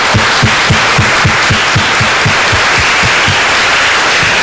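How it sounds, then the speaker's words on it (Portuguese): A church congregation at a women's congress applauds loudly and steadily, dense clapping filling the room with rhythmic low thumps running throughout, no voices breaking through. "Pode aplaudir o Senhor?"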